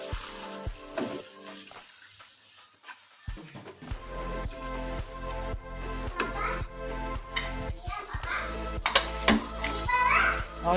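Chicken with khada masala and yogurt frying and being stirred in a pan, a steady sizzle with clanks of the spoon against the pan, with someone speaking nearby.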